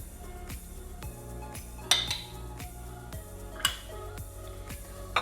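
Deviled egg yolk filling with mayo, Dijon mustard and lemon juice mashed in a bowl, giving repeated soft scraping taps of a utensil against the dish, with two sharper clinks standing out.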